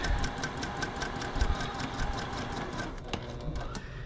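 A sewing machine stitching pieces of quilt fabric runs at a steady, fast, even rhythm of needle strokes, close and alone at a moderate level.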